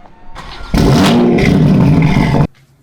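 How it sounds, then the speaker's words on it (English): A Toyota Supra fitted with an RK titanium exhaust, HKS blow-off valve and catless downpipe gives one sharp, very loud rev that holds for under two seconds before dropping back to a low idle. "Oh my god, that exhaust is so fucking loud."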